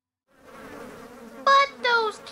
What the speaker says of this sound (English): those kids are quite literally getting attacked by bees!